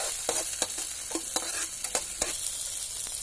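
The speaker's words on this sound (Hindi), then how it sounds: "अब इसमें मैं लहसुन, हरी मिर्च, इसमें कटी हुई प्याज, टमाटर भूनना।" Garlic, green chili, chopped onion and tomato fry in a pan for semolina upma, a soft steady sizzle broken by repeated sharp clicks of a spoon stirring against the pan.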